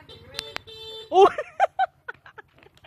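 A vehicle horn sounds with a sustained tone near the start, then people's voices break out in short, loud bursts.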